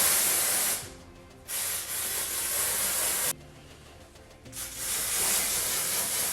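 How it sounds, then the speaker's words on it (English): Dry shampoo sprays from an aerosol can onto greasy hair roots in three loud, close hissing bursts separated by short pauses. "I'm gonna add my dry shampoo now because my roots are still kind of greasy."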